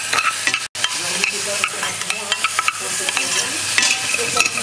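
Stirring in a saucepan during orange tart preparation in a professional kitchen, a steady scraping and clinking of utensil against pan with sizzling underneath, continuous and close throughout.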